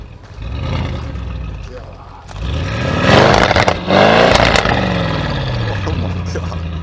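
An 850-horsepower Audi RS7 revving and accelerating hard, engine pitch sweeping upward in loud rising pulls with a brief gear-change dip between them, with people talking over it.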